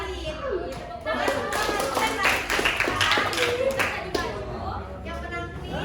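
An audience of students claps at a school counselling session, a dense spread of hand claps running steadily throughout under children's chatter and voices.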